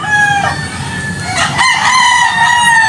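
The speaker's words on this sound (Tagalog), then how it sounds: "Daming manok. Sana all madaming manok." Roosters crowing again and again at a gamefowl farm, with several birds calling over one another in drawn-out, overlapping cock-a-doodle-doos and steady clucking underneath, loud and close.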